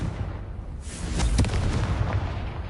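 Confringo blasting spell explosion in Hogwarts Legacy, a single close boom with a crackling burst that swells and rumbles out over a couple of seconds.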